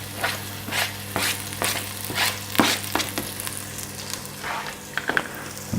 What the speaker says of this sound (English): the smell of it as well when it's cooking, when it's frying like that